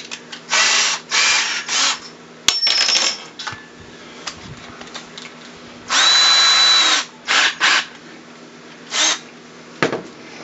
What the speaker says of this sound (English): forgot to put the Phillips head bit in my drill